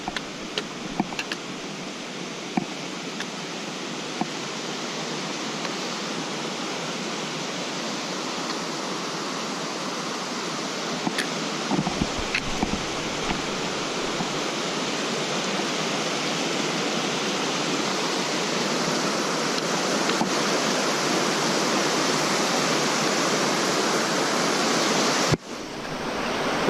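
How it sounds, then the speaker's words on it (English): Waterfall on a lake hiking trail, a steady, dense rushing roar of falling water that stays constant and fairly loud throughout, with a few faint clicks and no talking. "Coming to a nice waterfall."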